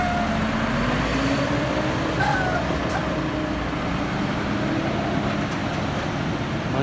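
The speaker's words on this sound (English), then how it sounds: "I think it's a Valtra T174, this one." A Valtra T174 tractor engine runs steadily, a loud continuous diesel rumble and drone with a faint rising whine, close and unbroken throughout.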